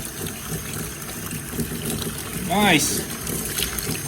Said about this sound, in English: we got some hot water coming up